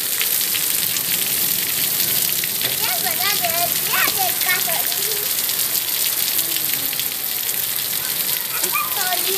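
Heavy rain pours outside a village house in Gujarat, a constant loud hiss of drops, with a voice talking briefly in the middle and some faint background sounds over the steady downpour.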